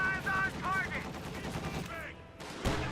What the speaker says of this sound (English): See the 50 cal suppressed, and then the cannon does the work.